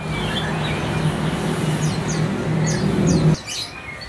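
A moulting caged songbird at a roadside bird kiosk gives short, repeated high chirps in quick clusters, moderately near, over a steady rumble of passing road traffic that drops away abruptly near the end.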